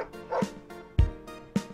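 A dog in the video game Always Sometimes Monsters gives three short yips or barks, each a brief sharp burst spaced about half a second apart, fairly close and moderately loud with little else around them.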